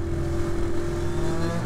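Several 125cc motorcycles pass close by on a curvy Black Forest road, a continuous buzzing engine drone with a steady pitch throughout the short stretch.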